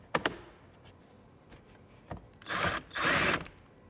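A power drill drives screws into the grab handle inside a 2019 Sierra Denali HD truck, with two short whirring bursts after a few clicks and taps, close by.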